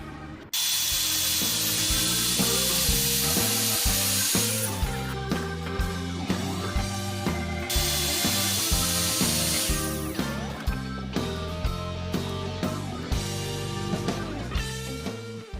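A wood router cuts a channel straight along the center line of a Telecaster guitar neck being built from rough lumber, a loud, steady high-pitched whine with a hard start and fluctuating load as the bit moves through the wood.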